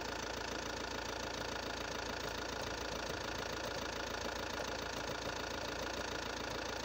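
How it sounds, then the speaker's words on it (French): Car engine idling steadily right after starting, during a battery, starter and alternator test; a continuous low, even hum with no speech over it. "Là, le moteur est démarré"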